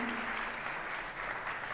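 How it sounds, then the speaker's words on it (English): A concert audience at a jazz sextet performance applauds steadily for a musician, a dense, even patter of clapping that holds its level for the whole stretch, heard from within the room at moderate distance. "Let's give him a round of applause"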